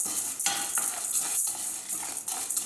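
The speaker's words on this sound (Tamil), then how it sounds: "கொஞ்சம் கைவிடாமல் கிளறணுங்க." Dry chana dal being stirred in a pan over low flame with no oil, giving a steady close scraping and rustling of dry lentils against metal, with soft pulses of stirring and no voice.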